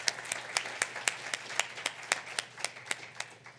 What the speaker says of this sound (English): Let's give a round of applause to Megan Aronson.